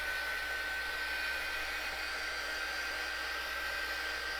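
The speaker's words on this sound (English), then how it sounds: "Let's go ahead and do some drying super quick, just so I don't see streaks." A hair dryer blows steadily on fresh paint on a farmhouse craft project, a constant close whooshing hiss with a thin whine, running alone for the whole stretch.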